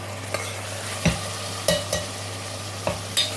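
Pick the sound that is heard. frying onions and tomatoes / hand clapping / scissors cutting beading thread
frying onions and tomatoes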